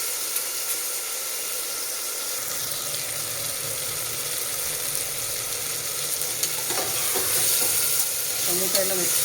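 Tomatoes with salt cook in a pan for veg pulao, giving a steady hissing simmer and sizzle that swells slightly toward the end, with a few faint utensil touches and no speech.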